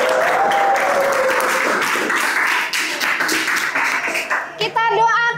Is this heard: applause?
yes